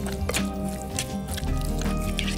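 Fish is mixed by hand with turmeric and salt, making wet squishing and dripping sounds that run continuously at close range, set against a steady background hum.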